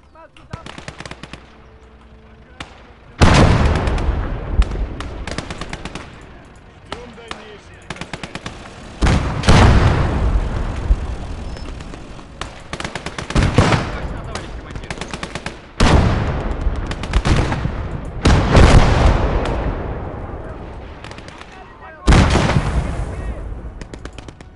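Artillery and mortar fire in a World War II strategy battle game: a series of loud, heavy booms with long decaying rumbles, spaced a few seconds apart over constant background battle noise, with a voice talking at times.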